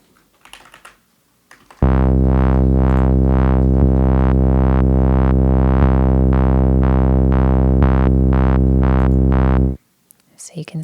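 A Strudel synth tone is modulated in turn by sine, ramp, saw and square shapes, giving a loud, buzzy sustained note that pulses rhythmically in brightness for about eight seconds, with brief speech just before and after.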